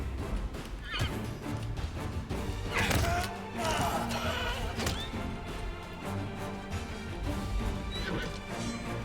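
A horse neighs and whinnies amid clattering hooves, crashes and blows in a battle in the video game Pathfinder: Wrath of the Righteous, over dense game music and effects.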